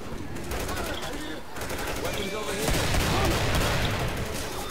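Rapid automatic gunfire in the zombie shooter Left 4 Dead 2, with continuous rattling bursts that grow heavier partway through, mixed with game noise and talking voices.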